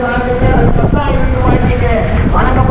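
Steady wind blowing at a beach on Pungudutivu island, a loud continuous rush of broadband noise buffeting the microphone, with people talking underneath throughout.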